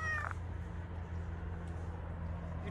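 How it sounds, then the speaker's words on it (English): A cat gives a single short meow near the start, then only a steady low background hum remains, fairly quiet and close, with no talking. "Look at the cat."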